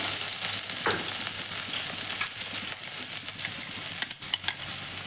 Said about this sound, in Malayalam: നമ്മൾ വെച്ച എണ്ണ ചൂടായിട്ടുണ്ട് അതിലേക്ക് ഒരു ടേബിൾ സ്പൂൺ ഗാർലിക് ചോപ്പ് ചെയ്തത്